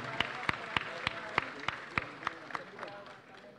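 Applause for a choir at the Golkar Party DPD inauguration in North Sumatra, a regular series of loud, evenly spaced claps over a steady crowd murmur, with voices audible in the background.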